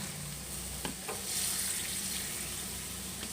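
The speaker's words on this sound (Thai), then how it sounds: "พัดให้เข้ากันจ้า" Minced pork with holy basil sizzles and crackles in a hot pan with sugar, green-cap soy sauce, fish sauce and oyster sauce, as a spatula scrapes and stirs in a few quick clanks over a steady frying hiss.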